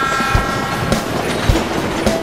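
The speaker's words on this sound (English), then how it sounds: "Now we board a train and head down towards the Inca Trail." A passenger train heading down toward the Inca Trail in Peru rolls steadily along its tracks, a loud, continuous rumble with periodic wheel clacks on rail joints and no talking.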